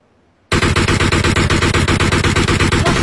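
Rapid automatic gunfire aimed at a vehicle in PUBG, a sudden loud burst of evenly spaced shots that starts after a moment of quiet and then continues in a steady, unbroken rhythm close to the listener.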